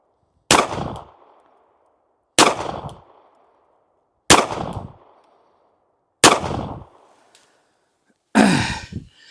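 Smith & Wesson Bodyguard 2.0 .380 pistol firing Winchester Silver Tip ammunition at a 5-yard range: five loud, sharp shots spaced about two seconds apart, each with a short decaying echo and no talking.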